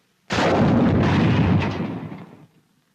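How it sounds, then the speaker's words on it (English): An M6 bazooka rocket strikes a tank in a single loud, close blast that roars for about two seconds before decaying into a brief rumble, with no voices. "This is what happens to a tank crew when a rocket hits."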